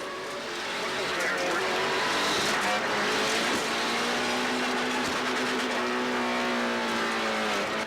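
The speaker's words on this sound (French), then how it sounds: "Sur le limitateur de révolution pour Latreille là-dessus" An Eagle Talon rally car on a gravel stage at the 1994 Charlevoix rally holds its engine at the rev limiter, a loud, sustained high drone with slight pitch wobble, with a commentator's voice running over it.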